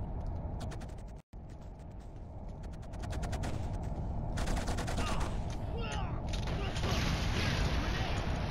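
Gunfire in the video game Killzone, rapid bursts of automatic shots with mechanical clatter, loud and continuous, with a voice talking over it.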